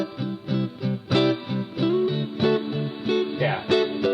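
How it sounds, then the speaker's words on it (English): A guitar passage played through a spring reverb setting on a Type 1 cassette recording chain: plucked chords and notes in a loose rhythm, each trailing into a wet, splashy tail, close and moderately quiet. "got it set up to a spring reverb sound."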